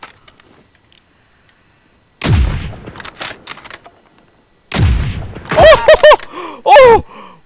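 Gunfire in a shooter video game: two sharp, loud broadband blasts a few seconds apart, each trailing into rattling noise, followed by strained groans and gasps.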